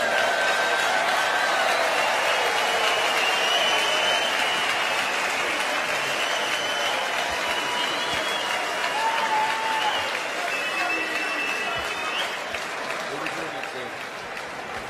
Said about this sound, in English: I'm sure a round of applause for Terry Jenkins and Adrian Lewis.